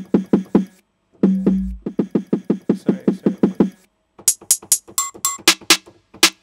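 A dry snare drum for a riddim beat, struck in a steady run of crisp hits with a short pause, then a busier stretch of sharper, brighter hits and fills, close and fairly loud with no talk.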